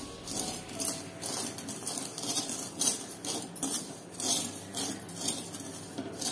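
Barnyard millet being stirred and roasted in a hot kadhai with the gas turned off, giving soft repeated scraping and rustling strokes at an even pace, close and fairly quiet, with no talking.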